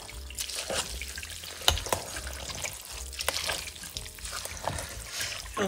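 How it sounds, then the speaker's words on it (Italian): Vincotto grape must fries in a pan with a continuous close sizzle and crackle, broken by irregular sharper pops and stirring scrapes throughout. "Poi adesso vi faccio vedere come frigge."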